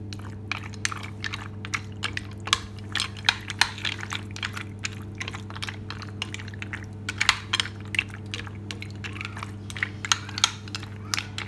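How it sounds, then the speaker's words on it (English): Mince beef sauce with pasta being mixed around in a pan, giving soft wet squelching and scraping clicks repeated irregularly over a steady low hum, close and moderately quiet. "And then we're going to give this a mix around"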